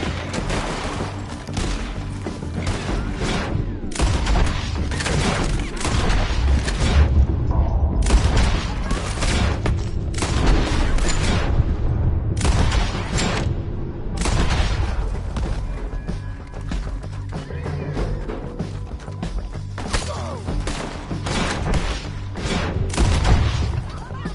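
Cartoon cowboy shootout with dense, continuous volleys of gunshots and booms, loud and close, carrying on throughout amid a noisy, chaotic mix.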